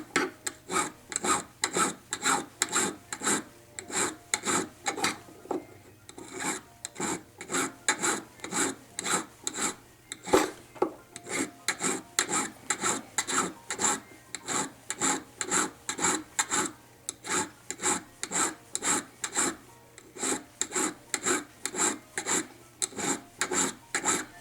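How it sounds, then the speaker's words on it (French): A dodane file rasps across a solid precious-metal ball being sculpted, in dozens of rapid, evenly spaced back-and-forth strokes that continue steadily and loudly with no talking. "continuer avec une autre lime, une dodane est très intéressante pour cette étape-là"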